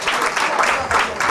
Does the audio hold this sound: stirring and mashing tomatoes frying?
no